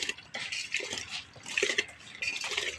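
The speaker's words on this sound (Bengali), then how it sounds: "এই যে জলটা গরম হয়ে গেছে, তাই এই গরম জলের মধ্যে আমি মিলিকের চালটা দিয়ে দিচ্ছি।" Soaked rice poured into a pot of hot water for a village-style chicken biryani, giving a soft rushing, splashing pour in bursts over about three seconds, fairly quiet and close.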